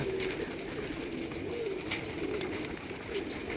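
Pigeons at a rooftop loft coo softly in repeated low calls over a steady background hiss, moderately close.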